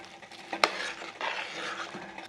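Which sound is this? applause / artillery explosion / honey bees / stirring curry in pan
stirring curry in pan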